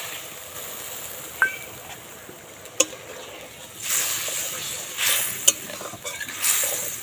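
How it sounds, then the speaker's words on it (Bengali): Coconut milk is stirred in a wok for a rohu fish rezala, soft swishing strokes with a few sharp clicks of a spoon against the pan, close and fairly quiet, no voices. "নারকেলের দুধটা দিয়ে ভালো করে একটু নাড়াচাড়া করে নিলাম।"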